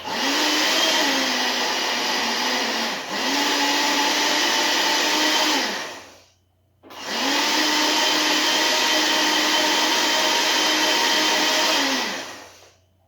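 A blender whirs steadily while emulsifying about a tablespoon of ingredients for cottage cheese pizza dough, run in two continuous bursts of roughly six seconds each with a brief pause between, loud and close with no talking.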